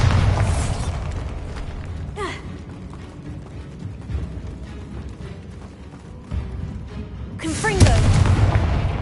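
Bombarda explosion spell cast in Hogwarts Legacy: two sharp, booming blasts, one near two seconds and a louder one near the end, over a continuous rumbling game soundscape.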